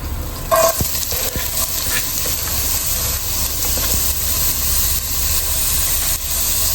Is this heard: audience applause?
no